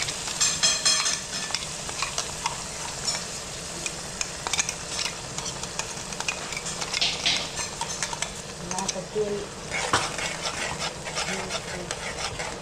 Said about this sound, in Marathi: तेल चांगलं गरम होऊन दिलं आणि अशा पद्धतीने ती मस्त हलवून घ्यायची.